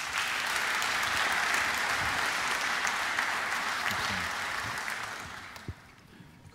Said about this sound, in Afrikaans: Kom ons geef hulle lekker hande klap.